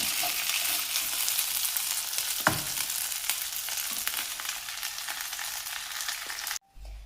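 Mackerel frying in a pan gives a steady, loud broadband sizzle with a few light clinks as the fish is turned, cutting off abruptly near the end.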